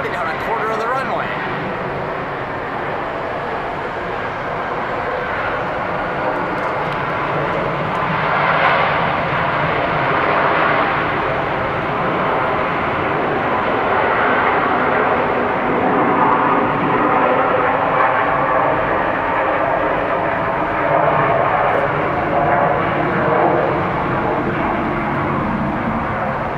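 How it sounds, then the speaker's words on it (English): Southwest airliner landing on the runway at Atlanta's ATL airport, a broad steady engine roar from some distance that swells a little midway and holds, with people talking faintly at times. "I haven't gotten a Southwest landing yet, so I gotta get this. It's floating down a quarter of the runway."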